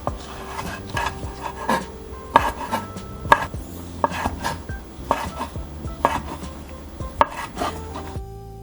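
Knife chopping crab sticks and sausage on a cutting board for gimbap filling, a steady series of crisp, close taps at an even rhythm with small board knocks, no talking.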